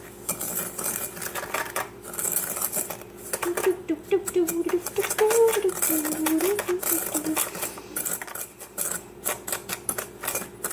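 Pumpkin pie filling with spices, including cloves, is mixed in a bowl, with rapid scraping and clinking of a utensil against the bowl in busy bursts throughout.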